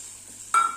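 Water hits a pan of fried spices for a Kerala coconut fish curry, a sudden loud hiss and sizzle bursting out after a quiet low simmer.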